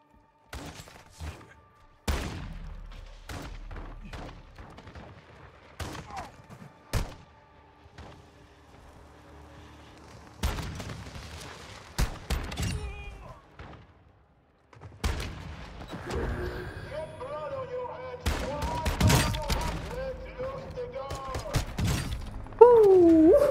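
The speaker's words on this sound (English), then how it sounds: "It's a shotgun." Shotgun blasts in Warzone 2 come as sharp, loud bursts at irregular intervals, mixed with gear rattles, clicks and other in-game noise that builds into a busier firefight toward the end.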